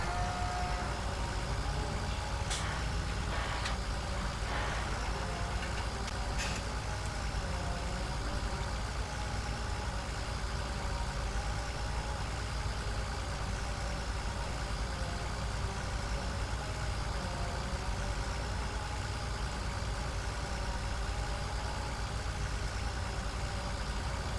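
A tractor engine idles steadily in Farming Simulator 2017, a constant low mechanical drone with a few faint clicks early on, no speech.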